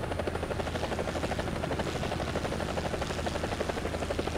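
Bell AH-1G Cobra attack helicopter in War Thunder, its rotor pounding in a steady rapid chop over a constant turbine drone, loud and close and continuous throughout with no voices.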